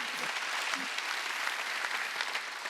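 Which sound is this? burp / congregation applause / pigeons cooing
congregation applause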